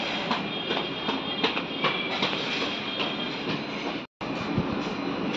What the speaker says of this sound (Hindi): ये रहा गोधरा का रेलवे स्टेशन।